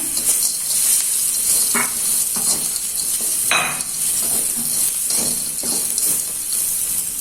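Tempeh goes into a pan with bruised lemongrass and spices and fries with a steady, close sizzle and hiss, broken by occasional stirring scrapes and clinks of a utensil on the pan.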